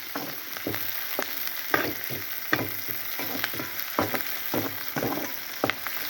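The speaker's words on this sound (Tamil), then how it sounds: "இது நல்லா வதங்கினா தான் டேஸ்ட்டாக இருக்கும் வதங்கி வரட்டும்" Spices and onion sautéing in a pan for dalcha: a continuous hiss of frying with regular scraping strokes of a spoon against the pan, close and moderately loud, no voices.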